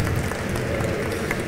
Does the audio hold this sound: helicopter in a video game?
no